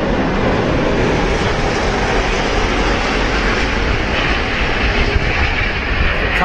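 An airliner coming in to land sends out a loud, continuous jet roar with a dense broadband rush that holds steady from start to finish, close by and with no talk over it.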